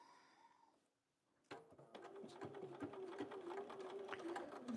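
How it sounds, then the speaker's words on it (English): A sewing machine stitches fabric scraps for a stained-glass-style quilting project, starting after a short pause and then running in a close, steady rapid whir with a clattering needle rhythm, with no talking. "So we will sew it like this"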